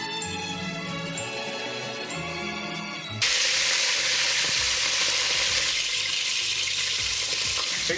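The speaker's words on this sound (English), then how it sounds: "You just want to make sure you get an absolutely incredible sear on your meat" Birria meat sears loudly in a hot pan, a dense steady sizzle that kicks in abruptly after a few seconds of softer tonal sounds.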